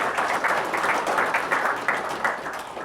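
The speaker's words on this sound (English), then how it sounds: "round of applause for sure" A room full of people applauds at an inaugural event, producing dense, continuous clapping that stays fairly loud and even from start to finish.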